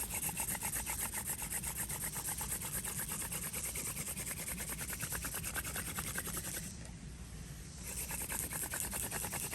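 A wooden spindle spun back and forth in a primitive hand drill produces a steady, close rubbing and grinding rasp with a rhythmic pulse, briefly easing before resuming.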